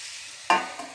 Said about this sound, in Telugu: మధ్య మధ్యలో ఈ ముక్కలను ఒకసారి తిప్పుకుంటూ ఉండాలి.